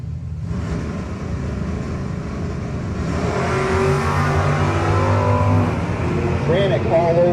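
Drag racing cars at a no-box 660 shootout, a 644 entry against an Oldsmobile, rumble at the start line, then their engines build into a louder, sustained roar, with a commentator talking over it throughout.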